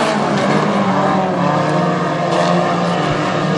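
Hornet class race cars roar around the oval at Granite City Speedway during a hobby race, a dense, loud, continuous engine drone from several cars at once with no voices.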